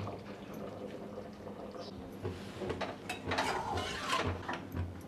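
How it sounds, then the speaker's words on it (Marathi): Dal bubbling in a pressure cooker on a kitchen stove, a steady low simmering rumble with brief rattling and liquid bursts rising toward the end, close by with faint talk. "ही बघा डाळीला चांगली उकळी आलेली आहे"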